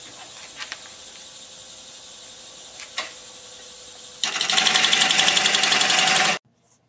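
A wood lathe turning a madrone burl bowl hums quietly with a few light taps, then a tool bites for about two seconds of loud, rapid, rhythmic chattering cut that stops abruptly; close, no talking.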